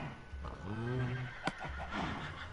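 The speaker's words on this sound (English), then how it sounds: "That must be the horses." A Minecraft horse whinnies with a wavering, descending neigh, followed by a short sharp click and some faint background rustling.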